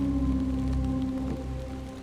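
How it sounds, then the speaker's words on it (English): Steady rain in the video game Hollowbody falls with a soft continuous patter beneath a low droning hum, no voices. "let's just get out of the rain"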